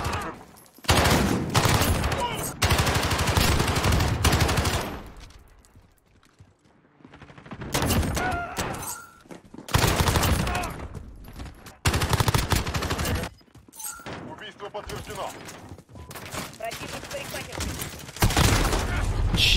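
Loud bursts of automatic rifle fire in the battle royale game PUBG come in several long volleys separated by short quiet gaps, with someone talking at points between and over the shooting.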